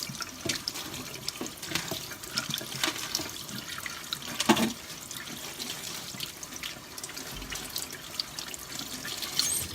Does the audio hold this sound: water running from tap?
yes